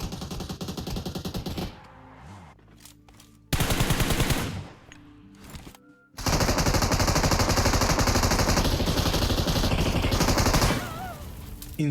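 M249 machine gun fire in PUBG Mobile inside an apartment building: long, loud sustained bursts of rapid automatic shots, broken by short pauses and quieter stretches, with the final burst continuing for several seconds.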